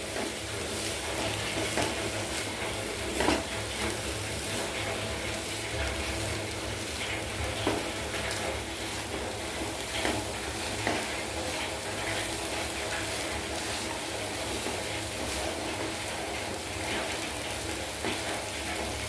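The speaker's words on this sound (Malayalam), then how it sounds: "നന്നായിട്ട് മിക്സ് ചെയ്ത് കൊടുക്കാം." Amaranth leaves and ivy gourd curry stirred and sizzling in a pan, a continuous hiss of frying with faint scraping clicks from the spoon, steady and close with no talking.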